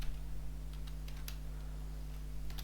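A name being typed on a computer keyboard, a sparse run of soft, close key taps over a steady low electrical hum, with no talking.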